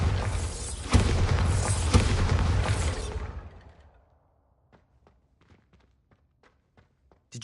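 A Bombarda spell explosion in Hogwarts Legacy: a loud, booming blast that roars for about three seconds, then fades, followed by faint, scattered taps and footsteps.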